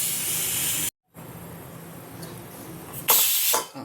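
Loud, steady hiss of steam escaping from a pressure cooker that cuts off abruptly, then returns quieter and swells again into a strong rush before fading.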